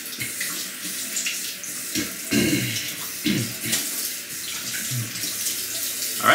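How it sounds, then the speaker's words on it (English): A shaving brush is wetted under a running bathroom tap, with a steady stream of water splashing and gurgling near the sink for several seconds, without any speech. "As for the brush, I'm gonna wet it underwater."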